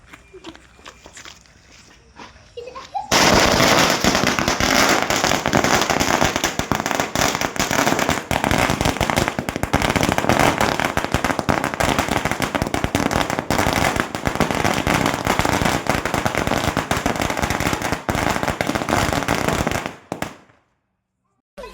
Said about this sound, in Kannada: ಮತ್ತು ಪಟಾಕಿ ಹೊಡೆದೇವ್ರಿ. ನೀವೇ ನೋಡ್ರಿ.